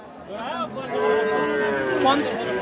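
Young bull calves mooing at a busy village cattle market, a long, loud, wavering moo close by with other cattle calls layered over the crowd's background chatter.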